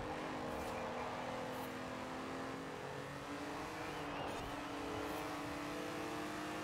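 A car engine in the racing game Forza Horizon 4 drones steadily with a sustained revving tone and a faint rise and fall in pitch, continuous and moderately loud with no talk.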